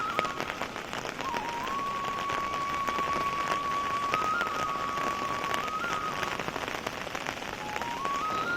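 Steady heavy monsoon rain in Uttarakhand pours down in a dense, continuous hiss, viewed from a house, with a faint high whine running through the background.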